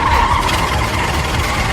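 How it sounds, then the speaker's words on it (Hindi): A car speeds away with its tires skidding and squealing, a loud, continuous, rough roar of engine and tire noise that stays steady throughout, heard close and with no talk. "गाड़ी भगा पिकलू, गाड़ी भगा पिकलू।"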